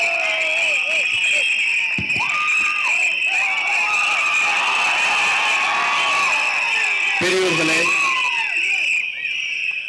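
A packed crowd at a political public meeting in Perambur cheers and whistles continuously, a loud dense roar with a sharp whistle running through it and shouts rising over the din.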